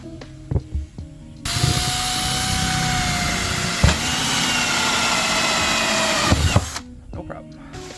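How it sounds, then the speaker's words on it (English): A power drill bores a hole through the top of a pond filter, a steady close whining buzz lasting about five seconds between quieter handling noises, with a brief spoken moment nearby. "is to drill a hole right in the top."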